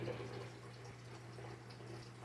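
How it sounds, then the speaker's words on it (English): A hydroponic drip system circulates water up through buckets of tomato plants, giving a steady, close trickling and splashing that runs without a break and with no voices. "We circulate our water up and through the drip"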